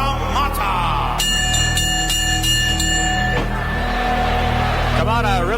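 A wrestling ring bell clangs rapidly in a steady series over crowd noise, with a commentator's voice before and after.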